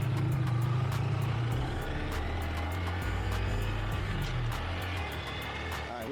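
A 2025 Honda Grom SP motorcycle rides along a road, its engine droning loud and close in a steady, buzzing tone that holds and then eases slightly near the end, with wind noise mixed in.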